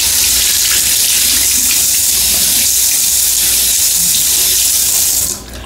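Water running steadily from a sink tap while lip gloss is washed off, a loud continuous close gush that cuts off abruptly at the very end.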